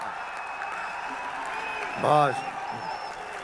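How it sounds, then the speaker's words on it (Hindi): An audience claps at a poet's appearance, a steady wash of crowd applause running throughout while a man briefly exclaims over it partway through. "तालियां जरा ढंग से बजाओ"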